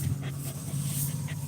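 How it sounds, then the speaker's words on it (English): A dog pants steadily in quick, rhythmic breaths, close and fairly loud, with no talking over it. "What are you doing, you silly dog?"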